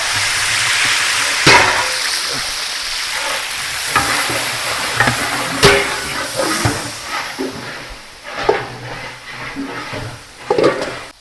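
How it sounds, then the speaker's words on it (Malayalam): Three kilos of crushed garlic and two and a half kilos of ginger fry in hot coconut oil in a large pot for a wedding beef curry, giving a loud hissing sizzle broken by repeated scraping stirs. "എണ്ണ ചൂടായിട്ടുണ്ട് ഇനി അതിലേക്ക് നമുക്കൊരു മൂന്ന് കിലോ വെളുത്തുള്ളി ഒതുക്കിയതും രണ്ടര കിലോ ഇഞ്ചിയും കേട്ടോ"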